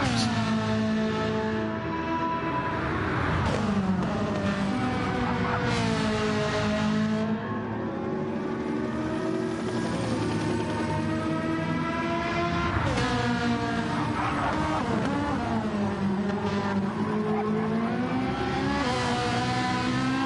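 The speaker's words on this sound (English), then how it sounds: "Daniel just coming up mountain straight in the Ferrari, just coming up towards Griffin's" A Ferrari race car drives up Mountain Straight at Bathurst toward Griffin's Bend in a GT3 sim race, its engine droning loud and close with rising pitch sweeps through gear changes, steady and unbroken.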